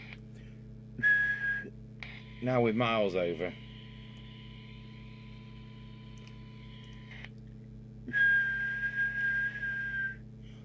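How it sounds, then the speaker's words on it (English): A PNI HP62 all-in-one CB radio whistles with a steady heterodyne tone during alignment, the pitch holding then dropping out and returning, while someone speaks briefly over a ticking background. "Right, I'll just kind of do the whistle test."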